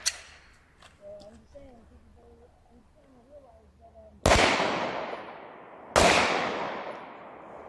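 Two sharp, loud rifle shots fired at targets crack out a couple of seconds apart, each with a decaying echo, following a stretch of quiet talking.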